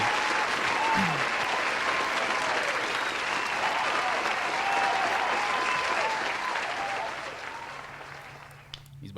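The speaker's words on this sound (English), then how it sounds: "So I want to give him a round of applause." A round of applause from a studio audience, dense steady clapping at moderate volume that holds for several seconds and then thins out toward the end.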